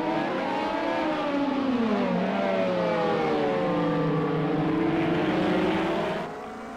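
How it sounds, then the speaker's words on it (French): A Toyota race car in the racing game Project CARS 2 brakes very late at the end of a straight, its engine note sweeping down loudly and continuously through the gears before cutting off abruptly near the end. "Freinage très tardif pour la Toyota au bout de la ligne droite."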